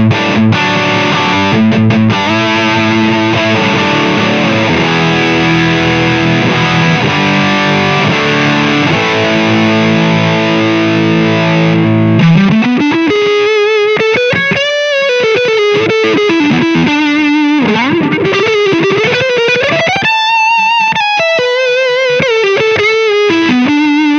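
Electric guitar played through a Mesa/Boogie Gold Mine distortion pedal with the gain turned up, loud and saturated, starting with sustained chords and moving into a lead line of bending single notes.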